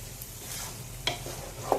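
Vegetables for veg biryani sizzle softly in a pot while a spoon stirs them, with a steady low fizz and a couple of sharp scraping clinks, close and fairly quiet.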